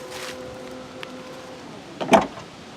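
Automatic power cargo door on a Volkswagen Atlas SUV operating: a steady motor hum with a faint whine, ending in a louder clunk as the hatch latches, close and alone.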